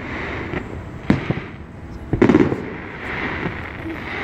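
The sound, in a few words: fireworks exploding outside in early July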